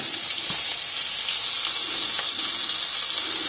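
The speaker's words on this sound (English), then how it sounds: "the bacon's becoming quite crispy, so I can now put the onion in and the garlic" Chopped onion and garlic fry in a pan with crispy bacon, a loud, steady close-up sizzle with faint stirring clicks and no talk.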